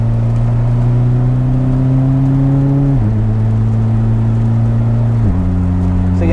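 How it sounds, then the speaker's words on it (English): A car in wet conditions holds a steady, droning engine hum with a clear pitch, which dips twice as gears change and then settles again, loud and close with no talk. "drop back a couple of gears and speed up a bit."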